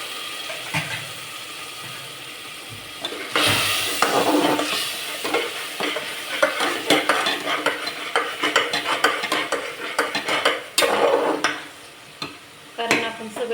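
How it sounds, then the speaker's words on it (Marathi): Chicken gravy masala of raw spices being sautéed in a pan, a continuous loud sizzle with busy scraping and clattering of a spoon stirring against the metal pan throughout, the strokes growing more vigorous partway in. "म्हणून 2 मिनिटं छान परततोय आपण"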